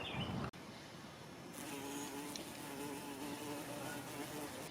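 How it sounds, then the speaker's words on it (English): A bumble bee buzzes steadily near split fatwood logs, a continuous droning hum that begins after a brief cut and holds at moderate loudness to the end, with no talking. "Poor Bumble Bee's getting his ass kicked."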